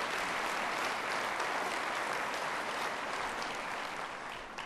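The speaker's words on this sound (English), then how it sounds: "Give yourself a round of applause." A large crowd claps steadily and loudly, a dense sustained wash of applause that fades slightly near the end.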